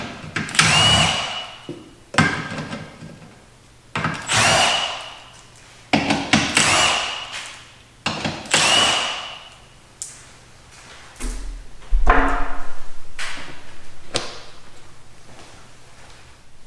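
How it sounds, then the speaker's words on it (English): Several short bursts of a power tool, each about a second, spaced roughly two seconds apart, taking out four 10mm bolts from the rear skid plate under a 2013-2019 Ford Escape, close and fairly loud in a quiet garage. "the first thing we have to do is remove 4 10mm bolts that hold this skid plate"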